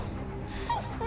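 A police dog in the video game Beyond: Two Souls whimpers briefly, faint high yelps over a low background hum.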